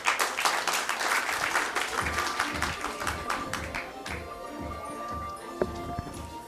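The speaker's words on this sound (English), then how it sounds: "Mr. John Nganga Mwangi, let's welcome him with a hand clap." An audience claps to welcome a speaker, starting strong with dense individual hand claps, then thinning out and fading to scattered claps toward the end.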